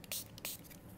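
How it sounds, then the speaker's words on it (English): Rubbing alcohol spritzed from a spray bottle over a stick-and-poke tattoo work area, two short hissing bursts close by in a quiet room. "So you spray it with alcohol."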